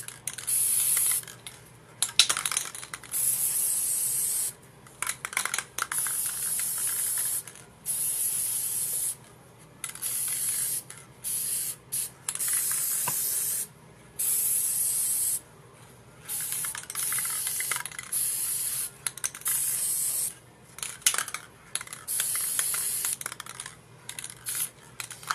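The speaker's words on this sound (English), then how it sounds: "just doing a spray seal on the Mod Podge" Aerosol spray sealant misted over a Mod Podge coat on a fabric-covered cup, heard as repeated close hissing bursts of a second or more, separated by short pauses, with no talking.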